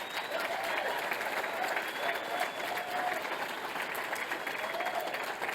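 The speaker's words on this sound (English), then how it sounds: "I want to give a round of applause to them for being here." Convention audience at the 2019 R-CALF USA annual gathering applauds steadily, a continuous wash of clapping from a large room with faint crowd murmur mixed in.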